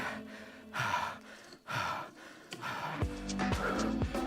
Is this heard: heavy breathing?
yes